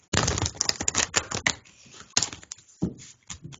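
Cards riffle and flutter in fast bursts of crisp clicks, followed by a few softer taps and slides.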